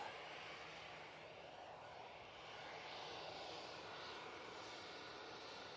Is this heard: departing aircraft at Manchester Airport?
yes